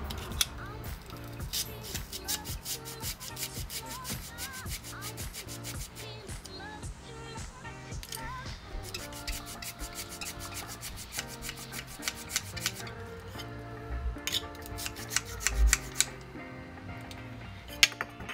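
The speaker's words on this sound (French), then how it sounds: "C'est pour couper l'ail." A cheap Dollarama garlic cutter works through garlic cloves, giving a run of close, repeated scraping and snipping clicks that go on steadily and unevenly for the whole stretch, with no voices heard.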